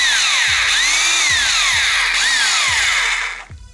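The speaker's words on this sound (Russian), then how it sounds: "Инструмент превращается в обычный шуруповер, которым можно вкручивать саморезы." A Bosch GBH 2-26 DRE rotary hammer runs in screwdriver mode, its motor whining loudly up and down in pitch as it is repeatedly revved and eased off, close by and alone before winding down at the end.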